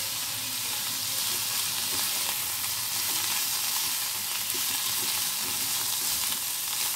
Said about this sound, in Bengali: এইভাবে একটুখানি নাড়াচাড়া করে নিই